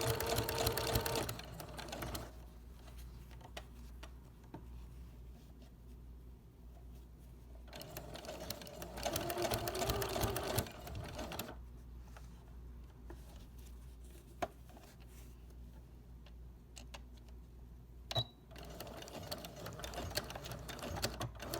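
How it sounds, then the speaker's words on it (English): A sewing machine stitches bias tape binding onto a quilted leaf potholder and backstitches, running in steady, close stretches of rapid mechanical chatter broken by a few short pauses. "So I'm going to sew the bias tape so that it goes over this first layer just a little bit, and then I'm going to backstitch and stop."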